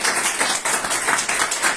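A church congregation applauds, a dense, steady wash of many hands clapping together at close range, loud and continuous throughout with no voices on top.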